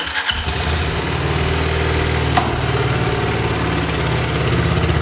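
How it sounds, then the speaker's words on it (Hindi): A BSA Goldstar 650 motorcycle engine catches and runs steadily close by, its throbbing exhaust note holding a constant idle with a brief blip partway through, no voices. "let's see how this sounds"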